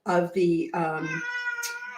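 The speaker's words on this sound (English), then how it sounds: "I have a Siamese cat talking about needing to leave" A Siamese cat meows in two close, loud, insistent calls followed by a longer drawn-out wail, with no other sounds around it.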